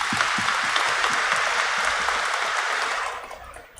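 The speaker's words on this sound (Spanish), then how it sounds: "les mandamos un fuerte aplauso" Congregation applauding inside a cathedral during a Sunday Mass, a steady wash of many hands clapping that carries on evenly and then fades out near the end, with no talking over it.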